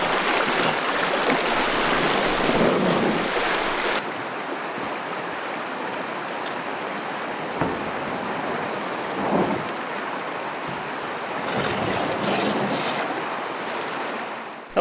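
River rapids rush and churn continuously over rocks on a remote river, a loud, dense roar of whitewater that eases slightly after the first few seconds, with occasional splashes and no voices.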